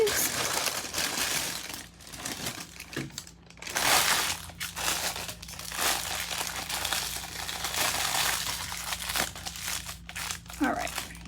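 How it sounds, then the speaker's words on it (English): A plastic piping bag used for cake decorating crinkles and rustles continuously up close as its contents are handled and transferred into a fresh bag, with bursts of louder crumpling and a person talking throughout. "I'm going to transfer it to a new bag"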